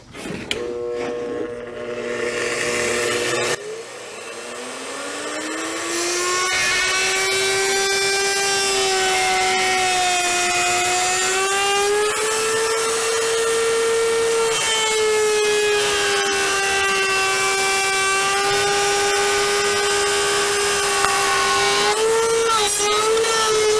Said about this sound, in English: want to adjust the router and router bit so that the bit is gliding along the router template